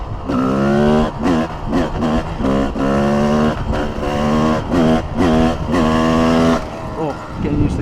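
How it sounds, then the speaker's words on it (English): A supermoto motorcycle revs hard while lifting into a wheelie, its engine note surging and dropping in a series of close, loud throttle blips, one after another. "Let's wheelie it out, lads."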